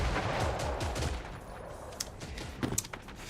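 Rapid bursts of gunfire in the battle royale video game Creative Destruction, a dense volley of shots followed by sharper isolated cracks near the end, with no talk.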